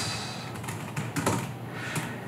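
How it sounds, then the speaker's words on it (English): Fingers typing on a phone app's on-screen keyboard to enter a customer's phone number and email address, giving a quick, uneven run of light taps with no talking. "finish typing in some customer phone number and email address"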